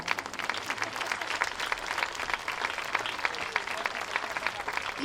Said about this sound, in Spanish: Pido para estos músicos de la banda de gaitas de Castellón un fuerte aplauso otra vez.